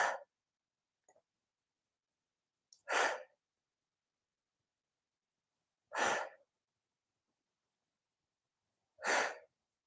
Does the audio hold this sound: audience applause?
no